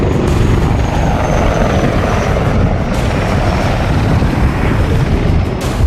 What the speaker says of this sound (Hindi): जिसमें विमान अलग अलग फॉर्मेशन में करतब दिखाता है